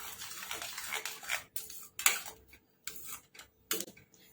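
Spoon clinking and scraping in a pan while stirring white sauce pasta with pepper and salt, a few soft irregular taps and scrapes separated by quiet gaps.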